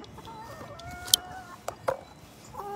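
Chickens fed eggs cluck in short, scattered calls over a quiet background, with a rooster-like note among them.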